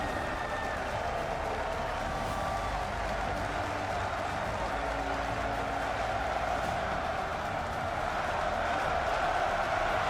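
Arena crowd at a League of Legends NA LCS playoff match between Immortals and Counter Logic Gaming roars and claps steadily as a dense, continuous wash of cheering, with a caster's voice faintly present.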